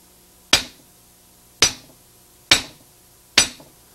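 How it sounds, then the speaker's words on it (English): A big hammer strikes a large punch laid sideways across a steel vise, four sharp metallic blows at a steady, slightly uneven pace, each ringing briefly before the next, close and loud with near silence between. "putting a punch on it sideways and hitting it with a big hammer"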